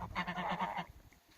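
Geese honking in a rapid, overlapping burst, fairly close and loud, then fading into quieter rustling at the end.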